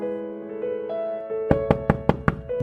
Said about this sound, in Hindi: 2 दिन के बाद कोई दरवाजा खटखटाता है।